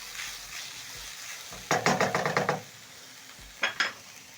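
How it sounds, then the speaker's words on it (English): Capsicum and carrots stir-fried for fried rice, with bursts of sizzling and rapid scraping tosses in a pan, a cluster of quick strokes followed by a pause and two more, fairly quiet and without talk. "Toss the capsicum together with the carrots."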